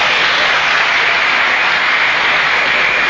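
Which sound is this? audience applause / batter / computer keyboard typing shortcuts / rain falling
audience applause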